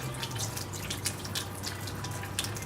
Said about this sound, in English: Just again draining that preservative fluid out.